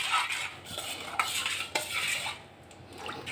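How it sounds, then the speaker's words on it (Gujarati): A spoon stirs and scrapes through a gathiya dough mixture of flour, salt and spices in a metal bowl, for Kutch-style lakdiya gathiya. Irregular scraping strokes and sharp clinks sound close, with a quieter pause near the end. "અને આ બધું વસ્તુ સરસ હલાવી લેશું."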